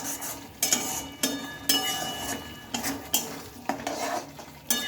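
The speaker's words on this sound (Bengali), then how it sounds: "টমেটোটা দিয়ে আবারও মশলাটা কিন্তু বেশ ভালোভাবে কষিয়ে নিতে হবে" Chopped tomato and spice masala being fried in a pan, with repeated sharp clinks of a utensil stirring against the metal over a steady close sizzle, no talking.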